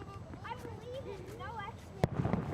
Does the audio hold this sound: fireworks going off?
yes